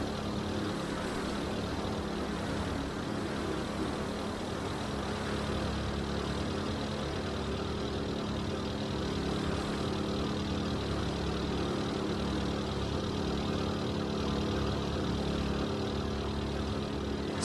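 A BMW E30 M3 Evolution four-cylinder engine idles in the BeamNG.drive video game, a steady, even hum holding constant without revving and no talk over it.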